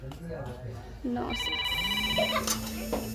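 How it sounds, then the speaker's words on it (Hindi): A phone rings with a few sustained electronic tones over a busy background of voices and household noise during a Holi festival morning. "तो संगवारी फोन आते बाद में बात करबो।"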